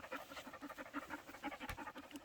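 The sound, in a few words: dogs panting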